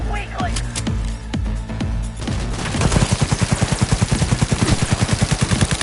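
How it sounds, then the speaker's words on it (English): Rapid automatic gunfire in the video game Cyberpunk 2077 bursts out loud and close, a steady hammering stream of shots that follows a few scattered single cracks and echoes. "Opening fire!"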